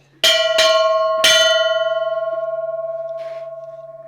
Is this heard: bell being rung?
yes